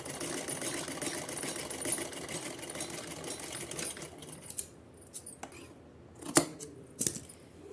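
A sewing machine stitching a folded fabric strip for a small Kanha ji dress runs steadily for about four seconds, then stops, leaving faint handling clicks and a couple of sharper taps.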